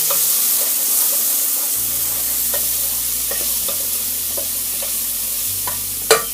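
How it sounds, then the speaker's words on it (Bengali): Chopped onion stirred into garlic-infused oil in a pan for Sylheti dried-fish shira, a steady sizzle with scraping spoon strokes throughout and a sharper clank near the end. "এখন আমি পেঁয়াজ কুচিটা দিয়ে দিচ্ছি। তারপর আমি এটাকে নেড়ে নেব পেঁয়াজটা দেওয়ার পর।"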